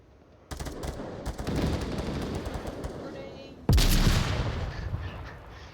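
Gunfire in a competitive first-person shooter match, rapid automatic bursts from the first half second on, then a loud sharp blast with a decaying tail near the middle, all fairly close.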